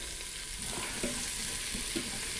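A large yellow onion sautés in a Cosori electric pressure cooker, giving a steady close sizzle with faint stirring scrapes. No one talks.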